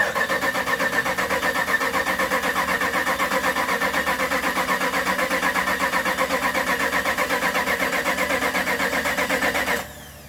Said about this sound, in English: while we're cranking the motor over to prime the engine